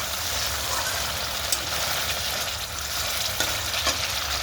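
Spices fry in a hot pan with a dense, steady sizzle, broken by a few brief clicks from stirring, with no voices.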